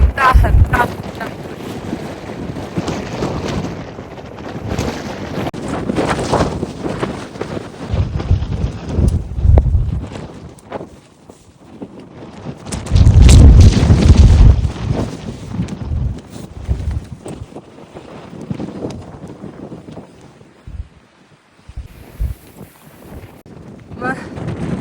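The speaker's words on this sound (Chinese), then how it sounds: "现在风很大很大很大。" Strong wind gusts across a Norwegian mountaintop at Kjeragbolten, roaring and buffeting the microphone in loud, uneven surges with a heavy blast midway; a voice speaks briefly under the wind.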